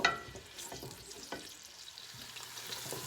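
Onions sauté in a pot for cabbage and rice soup, giving a faint steady sizzle with a few soft stirring scrapes near the start.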